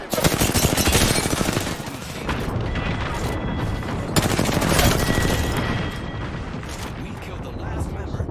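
Video game gunfire in a team shooter match, dense rapid automatic bursts and booms running nearly continuously, loud and close, with a voice talking faintly underneath.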